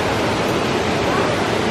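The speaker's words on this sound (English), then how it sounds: "We are at Uvita Waterfalls." Uvita waterfall in the Costa Rican rainforest sends up a loud, dense, steady rush of falling water during rain, filling the whole moment without a break.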